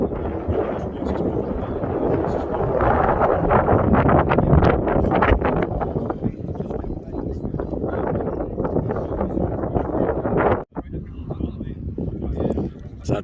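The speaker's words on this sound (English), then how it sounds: "It's quite windy up here at the moment" Strong wind buffets the microphone on an Exmoor hilltop, a dense, loud roaring rumble that swells and eases, with a sudden brief dropout near the end.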